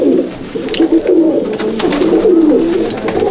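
Pigeons of a small female breed coo in a steady, close, overlapping murmur of soft throaty calls with no voices.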